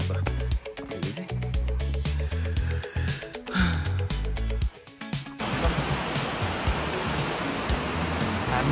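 After several seconds of music, the Mai Khola river takes over as a steady, broad rush of flowing water that continues evenly to the end, with no speech.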